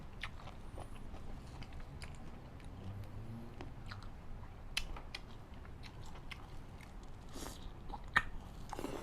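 Close, soft crunching and chewing of a Thai cockle leaf-wrap snack (miang hoi khraeng), steady and wet, with a few sharper bites and no clear speech.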